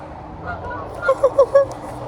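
Canada geese give four short, honks in quick succession at mid distance, standing out briefly against faint outdoor background noise in a garden wetland setting.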